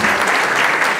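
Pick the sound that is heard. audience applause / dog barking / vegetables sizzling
audience applause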